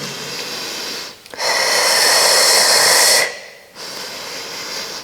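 Deep breathing during a morning full-body exercise routine, heard up close and loud: a long rushing inhale, a pause, then a slow exhale, with no talking.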